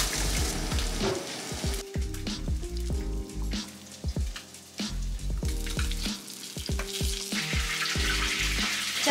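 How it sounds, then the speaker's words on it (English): Salmon sizzles loudly in a hot pan, a constant crackle up close with scattered clinks and scrapes of a utensil, no voices. "Just got done frying the fish,"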